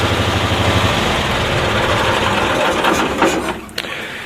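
The small engine of a 1972 Cushman Truckster runs after an ignition repair, a loud steady chugging idle up close that wavers and dips near the end.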